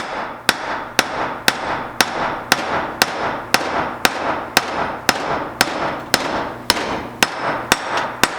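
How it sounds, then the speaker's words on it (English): Hammer driving a wheel bearing race into the hub of a Toyota AE86 during a Wilwood big brake upgrade: a steady series of about seventeen sharp, loud metallic whacks at close range, evenly spaced. "you want to give it like 1 or 2 solid good whacks past that, just to make sure it's all the way bottomed out"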